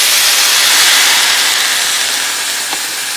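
Water poured into a hot pan of fried buckwheat gives a loud, broad hiss of steam that starts strong and fades slightly over a few seconds, no voices.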